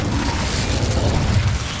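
Spell explosions from Confringo and Incendio in the Hogwarts Legacy video game, heard as a steady, dense low rumbling boom that holds loud throughout without distinct separate blasts.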